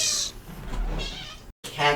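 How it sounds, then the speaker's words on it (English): A cat lets out loud scream-like yowls, a harsh wail at the start and another near the end, broken by a brief silent gap. "Cats do a heckin' scream."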